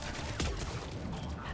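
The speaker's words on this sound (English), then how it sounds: "Is this a fucking shotgun? It is." Shotgun fire from the video game Mass Effect 2, one sharp blast early on, layered over dense, continuous in-game battle noise.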